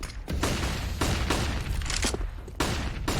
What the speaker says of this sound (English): That is so many flashbangs.